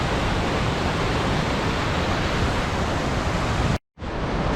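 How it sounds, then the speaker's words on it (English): Fast-moving river water beside a steep downhill stretch in Ontario, a loud, steady broadband rush close by that fills the scene and drops out briefly near the end before resuming. "And this water is moving."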